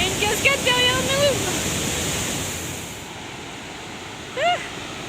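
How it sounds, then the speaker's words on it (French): A 120-metre waterfall in the Chiapas mountains gives a steady broadband roar that fills the scene, with brief voices and a whistle-like call over the rushing water. "Il y a une cascade derrière nous."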